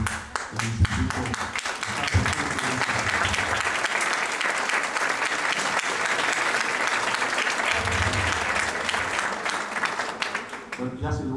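Sustained, dense applause from a conference audience rolls on for the whole stretch, loud and even, with scattered sharper claps standing out near the start and end.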